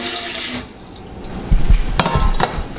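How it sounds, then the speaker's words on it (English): Water splashes and pours noisily into a metal vessel, with hollow clanks and sloshing after a brief hiss at the start. "I'm gonna strain it into the clean pot."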